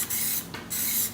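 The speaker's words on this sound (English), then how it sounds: "try not to spray so much inside your lug nut holes" Aerosol can of Plasti Dip rubber coating sprays onto car rims in two long hissing bursts with a short pause between, close and steady.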